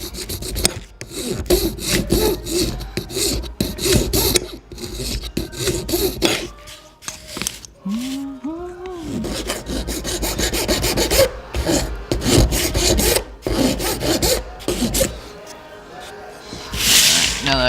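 Rough 60 grit sandpaper rasps back and forth over a wooden ice fishing insert, giving fast, close, gritty strokes in a steady rhythm, with a voice talking over part of it.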